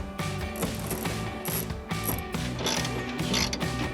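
A newly installed pulley on the elevator cable mechanism of an abandoned airplane spins freely, giving a steady metallic ratcheting, clicking whir that runs continuously and loud up close, with no talking.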